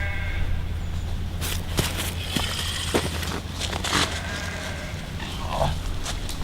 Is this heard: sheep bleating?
yes